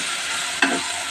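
Spices being stirred in a cooking pan, a low steady sizzle broken by a single quick scrape of a spoon partway through, close, no talk.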